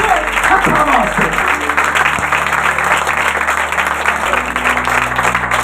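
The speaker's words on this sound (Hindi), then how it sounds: "जोरदार तालियां, जोरदार तालियां एक यसू दे हथा वास्ते" Loud applause from a congregation at a church service for Jesus, sustained and close, with a steady hum running underneath and voices faintly mixed in.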